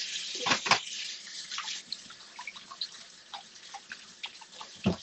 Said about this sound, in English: rinse your potatoes off, scrub them a little bit